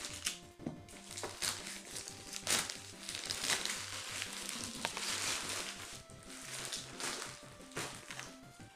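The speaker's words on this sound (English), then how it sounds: "Let me just quickly use my scissors and let me just unbox it" Packaging for a Keychron K8 Pro barebone mechanical keyboard crinkles and rustles close by as it is cut open with scissors, with irregular crackling bursts throughout and music playing underneath.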